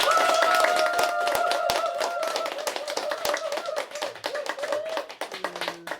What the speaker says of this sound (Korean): 1등은 박수 다시 한번.